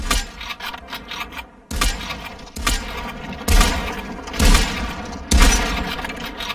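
Rapid gunfire from a Sako rifle in the VR shooter Population One, repeated sharp booming shots with echoing tails over dense game noise, loud and close.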